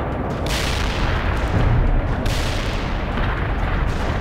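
Heavy artillery barrage pounding down in the strategy game World in Conflict, a continuous roar of dense booming impacts with two sharp blast onsets, loud and close, no voices.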